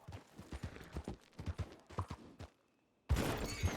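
Hooves clip-clop in a steady trotting rhythm from a horse in the WildRP western game, then fall silent before a sudden loud burst of noise.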